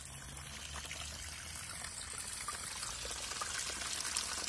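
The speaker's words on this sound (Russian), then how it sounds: "очень красиво журчит вода" Water trickling steadily in a small, somewhat overgrown decorative garden pond among rose and juniper bushes, a constant soft outdoor babble at moderate level with no pauses.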